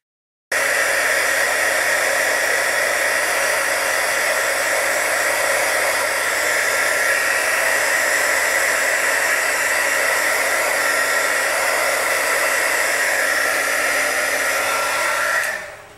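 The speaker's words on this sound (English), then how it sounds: "So I'm just gonna hit with my heat gun" Heat gun blowing steadily on alcohol ink to dry it, a loud continuous hiss of air and fan noise from start to end with no talking, cutting off sharply at the close.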